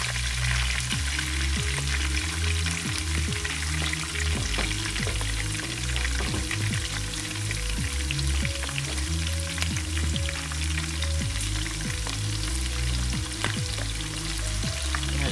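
Onions frying in a pot for a curry lamb stew, stirred with a spatula: a steady, loud sizzle fills the whole stretch, broken by repeated scraping strokes of the spatula against the pot, with no talking.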